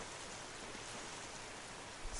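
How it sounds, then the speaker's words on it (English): Rushing waterfall in the video game Uncharted, a steady broadband wash of falling water that stays loud and even throughout, with no voices over it. "Ooh, waterfall."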